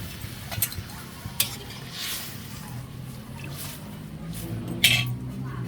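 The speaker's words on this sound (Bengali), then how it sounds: "আর একটু জল দিয়ে দিব, আজকে পাতলা করে ঝোল করব।" Water goes into a pot of thin goat meat curry, giving a soft splash and gentle sizzle with a few clinks of a utensil against the pot, fairly quiet and close.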